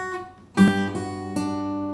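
Acoustic guitar playing chords from a Frozen song, two strummed chords ringing out with sustained harmonic tones, clear and alone.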